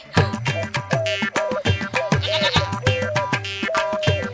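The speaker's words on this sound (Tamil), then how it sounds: "ஐயோ என் ஆட்டுக்குட்டி." A lamb in a Tamil movie scene bleats over and over in quick, wavering cries that sound close and loud, with no talking.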